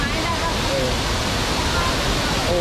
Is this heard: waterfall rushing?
yes